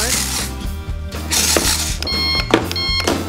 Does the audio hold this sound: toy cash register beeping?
yes